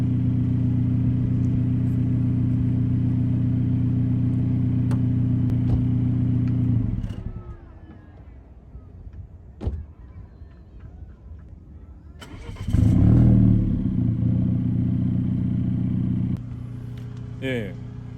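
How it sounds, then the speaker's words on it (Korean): A Volvo S60 Polestar idles with a steady, deep engine hum that cuts off. After a pause, it fires up again with a loud, booming start through its opened variable exhaust, then settles to a lower idle. "처음 시동을 걸었을 때는 소리가 우렁차게 한번 소리가 나요"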